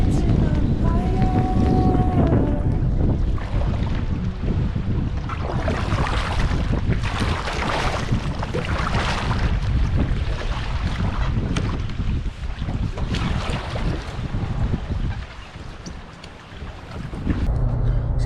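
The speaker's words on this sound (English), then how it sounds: "That wind over at Mallows was really tough today." Strong wind roars and buffets steadily across an open fishing boat at Mallows Bay, loud and close with water noise beneath, easing slightly near the end.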